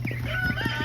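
Chickens cluck in short, soft bursts close by, several quick calls in a row over a faint steady hum.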